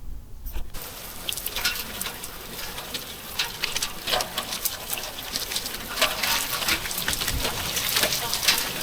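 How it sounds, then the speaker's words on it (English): Heavy spring rain pours outdoors during a storm beside a covered grill, a steady, dense hiss of drops that holds for the whole stretch and swells slightly toward the end. "it started pouring pretty quickly"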